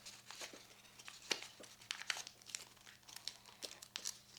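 Paper crinkles and crunches as an origami corgi puppy is folded, in a run of close, crisp creases with a few sharper snaps. No voices.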